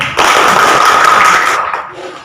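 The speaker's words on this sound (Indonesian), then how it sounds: "Tepuk tangan dulu untuk Pani." Brief burst of clapping from schoolchildren in an elementary classroom, a dense wash of hand claps lasting about two seconds before trailing off.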